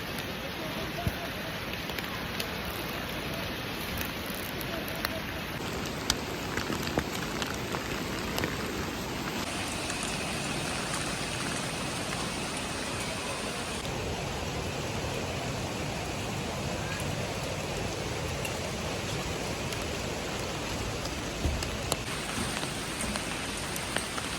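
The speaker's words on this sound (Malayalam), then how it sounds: "നല്ല മഴ കേട്ടോ മഴയത്താണ് നിൽക്കുന്നത്" Heavy rain falls steadily in Wayanad, Kerala, a dense continuous hiss of drops on surfaces all around, nearby and unbroken throughout.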